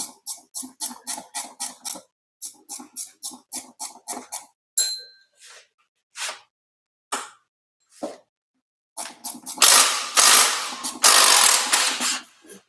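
Ratchet working a long bolt out of a bracket on a Toyota 1MZ engine: quick bursts of close, crisp clicking in short repeated runs, a few isolated knocks, then louder rasping mechanical noise toward the end.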